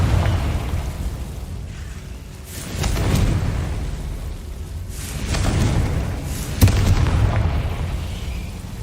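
Confringo blasting spells in a Harry Potter video game, booming explosions with deep rumbling bursts that swell and fade in waves, loud and continuous with a sharper blast near the end.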